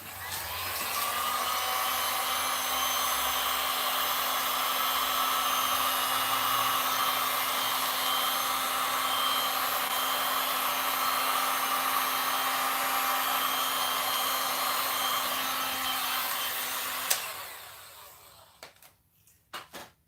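A heat gun blows steadily on resin poured over a 12x36 acrylic pour canvas. The loud, continuous whirring hiss runs for about seventeen seconds, then cuts off, leaving a few faint clicks and knocks.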